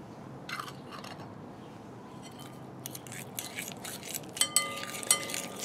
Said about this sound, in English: Stir this up well, mix in that egg.